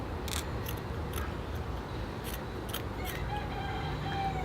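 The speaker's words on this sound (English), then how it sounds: "I'm not having much luck cutting here." Scissors snipping cloth around the roots of a baobab bonsai seedling, a few soft intermittent cuts over steady background hiss.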